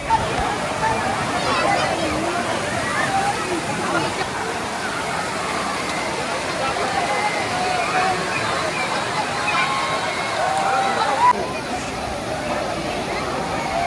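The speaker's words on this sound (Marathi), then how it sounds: "गर्दीचा कल्लोळ, तरुणाईचा जल्लोष व हलकासा पाण्याचा खळखळणारा आवाज" Water gushes and gurgles steadily at Bhushi Dam, Lonavala, while a large crowd of tourists chatters and shouts in the background, a busy outdoor din.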